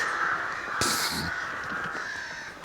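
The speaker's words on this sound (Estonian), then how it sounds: "Jah, linnud laulavad." Crows caw outdoors at a forest campsite, a loud harsh call bursting out near the start followed by fainter calls, over a steady high-pitched chorus of other birds singing in the background.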